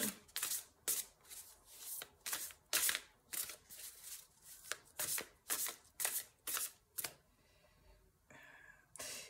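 Tarot cards being shuffled by hand in about fifteen brisk, evenly spaced riffling bursts, close and crisp, then a softer slide as cards are drawn.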